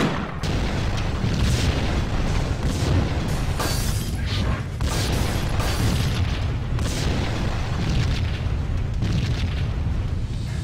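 Dense, continuous booming and rumbling from grenade explosions in Max Payne, loud and close, with repeated bursts blending into a heavy roar throughout, with no talking.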